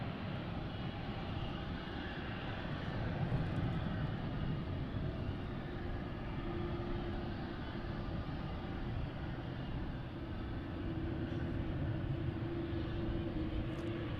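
A Boeing 787 Dreamliner departing DFW Airport at night, its engines a steady, loud broadband roar holding through the whole stretch with no talk over it.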